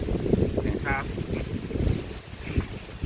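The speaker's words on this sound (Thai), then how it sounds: "เสียงลม เสียงลม" Steady wind rushes and buffets the microphone with a low roar, while faint voices murmur underneath and a brief tonal chirp sounds in the middle.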